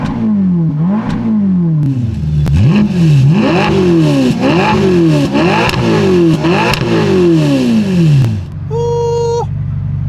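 The V8 of a Ferrari Roma (620 hp) revs hard through repeated rising sweeps, loud and close, each climb dropping back before the next, then settles to a lower idle with a brief electronic chime.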